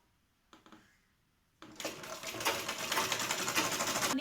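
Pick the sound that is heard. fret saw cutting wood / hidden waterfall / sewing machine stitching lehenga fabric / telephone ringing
sewing machine stitching lehenga fabric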